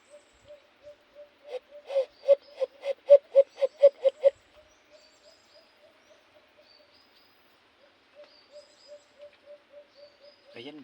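A rapid series of clear, whistled hoots rises and then fades, with softer evenly spaced single notes before and after and a brief call at the end, all against a quiet background.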